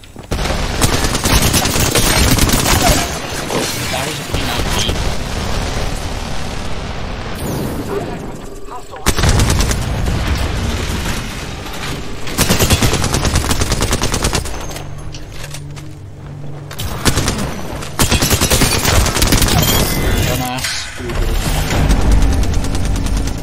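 Rapid bursts of gunfire and heavy explosive booms from an arena match in a shooter video game, loud and nearly continuous with short pauses between volleys.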